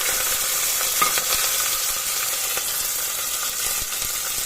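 Onion and garlic sautéing in a hot mustard-seed tempering with green chilies and curry leaves for dal rice, a dense steady sizzle with a few soft stirring knocks, close and continuous.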